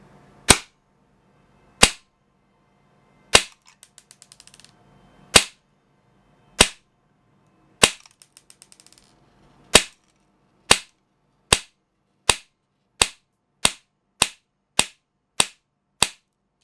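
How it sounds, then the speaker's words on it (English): A Gate Titan DSG airsoft gun fires BBs in sharp, loud single cracks, spaced slowly at first and then quickening into a steady rapid series of about fifteen shots, with no talking. "So this is my outdoor DSG, so it's going to be shooting a little powerful"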